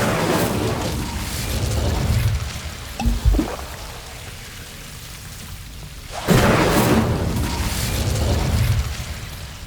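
The Incendio fire spell in Hogwarts Legacy erupts as a loud, booming whoosh of flame, with one burst at the start and another heavy blast later, separated by quieter rumbling ambience.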